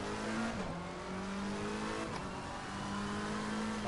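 Race car engine in Assetto Corsa Competizione at Indianapolis, revving hard and steady as it accelerates, with a continuous droning tone rising in pitch, close and loud throughout.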